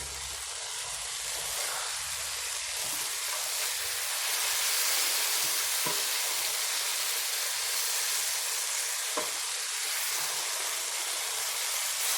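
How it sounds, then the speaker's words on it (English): Onions frying alongside steak in a pan give off a steady, even hiss for the whole stretch, with a few faint clicks and no voices. "I'm now going to add in the onions so that it cooks with the steak."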